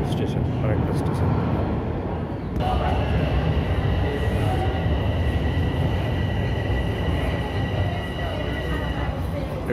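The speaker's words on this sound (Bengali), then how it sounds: "ডন মিলস যাওয়ার ট্রেন চলে এসেছে।" A Toronto subway train arriving at a station on the line toward Don Mills, a loud continuous rumble and roar of wheels with a faint high whine, heard close on the platform, with people talking underneath.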